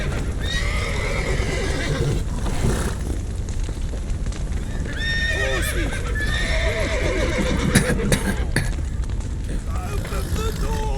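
Horses in a burning stable in The Witcher 3 neigh and whinny repeatedly over a constant roar of fire, with hooves clattering and people shouting amid the din.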